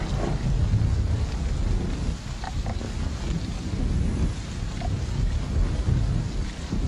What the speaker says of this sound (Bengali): বৃষ্টির ধারা অব্যাহত রইল